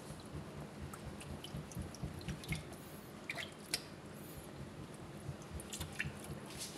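A plunger working a clogged kitchen sink drain, making soft wet squishes, sucking gulps and drips in an irregular pumping rhythm, quiet and close with no talk.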